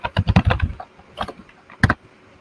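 Quick bursts of keyboard typing, a rapid cluster of clacks followed by a few scattered keystrokes, close and fairly loud with no talking.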